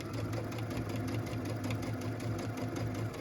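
A sewing machine runs steadily across a pieced, quilted Christmas stocking with a close, continuous mechanical hum and fast rhythmic rattle. It runs alone, with no talk.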